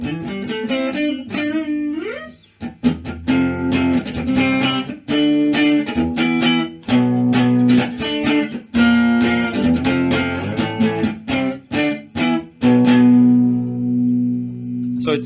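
An electric guitar plays through a RossDist boost distortion pedal, giving a loud, lightly overdriven tone with sustained chords and single notes in an uneven rhythm, heard up close.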